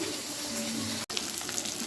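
Fish pieces fry in hot oil in a home kitchen, giving a steady, close, hissing sizzle with one brief break partway through. No one speaks.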